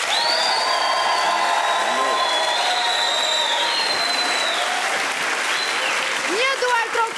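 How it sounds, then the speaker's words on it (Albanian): A studio audience on an Albanian TV show claps in a sustained, loud, dense burst of applause with some cheering, as a host speaks over it near the end. "Një duartrokitje ju lutem për dyshen e bulevardit."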